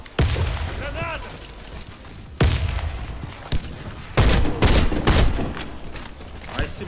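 Warface video game firefight: a sudden grenade blast followed by sharp gunshots and loud bursts of rifle fire, with players talking excitedly over the noise.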